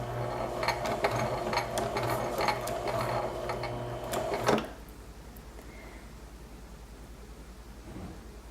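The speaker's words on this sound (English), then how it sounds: "I press and hold the reverse stitch button down and use the foot pedal to go backwards 3 or 4 stitches." A sewing machine runs steadily in reverse for a few back-stitches with a dense mechanical whir, then stops abruptly after about four and a half seconds, leaving quiet room tone.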